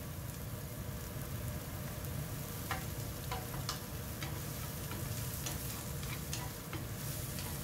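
Shiitake mushrooms sauté in a hot pan, a dense continuous sizzle with light ticking pops and occasional utensil scrapes as they are stirred.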